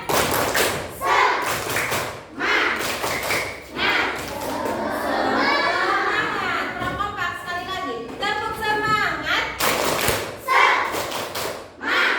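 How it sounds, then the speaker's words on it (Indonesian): A school class in Indonesia claps and thumps in a rhythmic chant called tepuk semangat. Patterned bursts of claps alternate with children's shouted chanting, loud and close, and a teacher's voice is heard too. "Kita tepuk semangat dulu aja."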